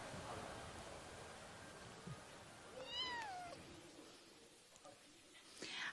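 A two-month-old kitten gives one clear, rising and falling meow near the middle, set against outdoor background noise and rustling.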